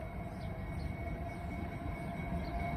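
A Norfolk Southern autorack freight train rolls over the diamonds at Marion Union Station in Marion, Ohio, heard as a low, continuous rumble with a faint steady tone above it, fairly quiet and without talk.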